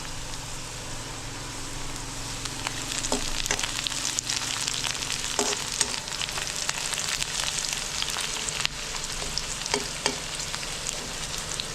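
Onions frying in oil in a pan for a goat head soup gravy, a steady close sizzle with occasional stirring and sharper crackles throughout, no talking.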